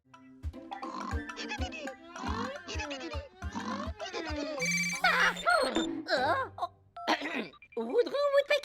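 A cartoon telephone rings in short bursts, then voices speak with exaggerated animated tones over the noise.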